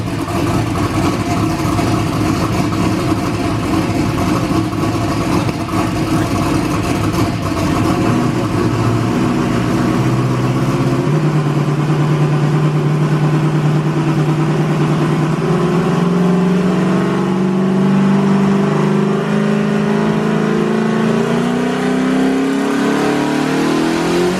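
A Ford-built LS engine screams on a dyno with its exhaust pointed straight up, the loud sustained roar climbing steadily in pitch through a long wide-open pull, close and continuous with no talking.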